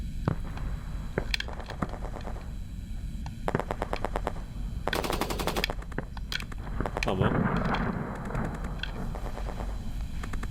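Rapid gunfire bursts and single shots from a war video game crackle in repeated clusters, with steady game noise and a voice talking over parts of it.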